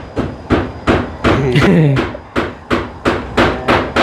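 Steady, loud hammer blows on roofing sheets during house roof construction, about eight evenly spaced strikes close by, with a brief voice in the middle.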